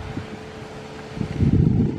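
Wind buffets a camera microphone outdoors while birds are being filmed, producing a low rumbling roar that swells louder toward the end.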